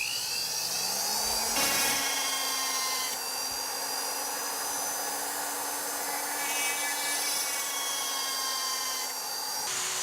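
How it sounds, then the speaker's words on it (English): A small high-speed drill whines steadily and shrilly for several seconds while boring a hole in ivory, with a brief scraping bump near the start as the bit bites in. "Then I'll use a drill to make the hole."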